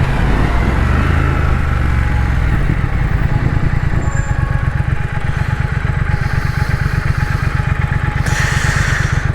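A 2021 Triumph Thruxton RS engine rumbles loud and close while shifting down through the gears, its pulsing exhaust beat slowing steadily. Wind buffeting runs underneath.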